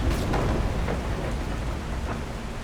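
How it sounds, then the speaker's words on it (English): Steady rain pours down in The Last Caretaker game world, with low rolling thunder rumbling underneath and a brief crack near the start, continuous and fairly loud with no talking. "It's always raining."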